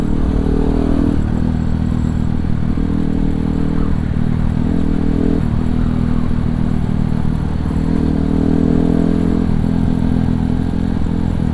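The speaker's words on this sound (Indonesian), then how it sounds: "ini motor dari depan lagi" A motorcycle passes in traffic on a ride to a Yamaha WR155 meetup in Bandung, heard as a loud, close, continuous engine drone with slight swells as it goes by, and no one speaks.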